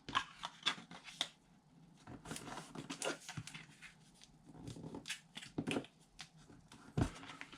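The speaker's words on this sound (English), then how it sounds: "all I'm going to do is fold this over and get it stuck down" Paper being folded and pressed down over double-stick tape, close and quiet: scattered crinkles, soft rubs and light taps of paper handling, no talk.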